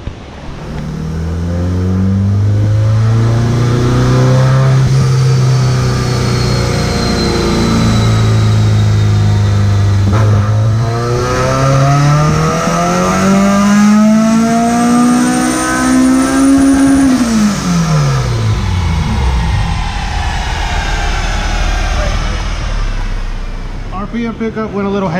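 Turbocharged Honda Civic Si on a dyno, the engine revving up through a loud, sustained pull with rising harmonics, dropping off near the end; background voices are faint.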